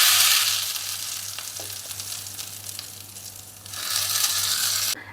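Hot oil tempering of mustard seeds, urad dal and dried chili poured into chutney, a loud close burst of hissing sizzle and crackle that eases slightly, then flares up again.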